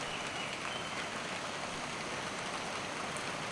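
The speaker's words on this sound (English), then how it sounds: "Well, it's cold and rainy out again." Steady, faint rain hisses outside on a cold day, an even wash of patter with no voices.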